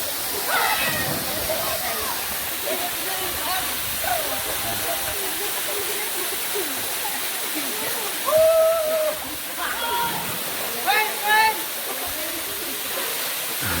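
Soquib Waterfall in Tayasan City, Negros Oriental, roars steadily as people swim and splash nearby, with voices and shouts rising over the constant rush of falling water.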